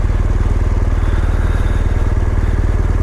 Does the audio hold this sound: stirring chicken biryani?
no